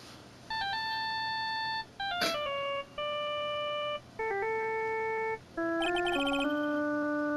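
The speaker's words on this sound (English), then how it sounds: "But it was this ringtone that caused it." Phone ringtone from the Ace Attorney: Justice for All video game, a bright electronic melody of clean sustained beeping tones in short phrases, loud and close, with a brief sharp click partway through.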